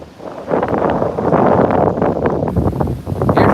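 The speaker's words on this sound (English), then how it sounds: "Man, that's windy." Strong wind gusts buffet the microphone outdoors near Lake of the Ozarks on a cold day, a loud, close roaring rush that swells and dips without speech.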